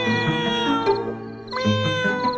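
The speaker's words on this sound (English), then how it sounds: "Oh, it's just a cat." A cat meows twice in quick succession, close and clear, with a brief pause between the calls.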